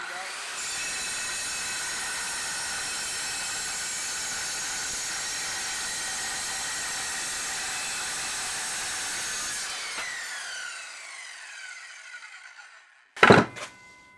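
A circular saw cuts through quarter-inch steel plate in a loud, steady, bright metallic screech lasting about nine seconds, then the blade winds down, followed by a sharp clunk.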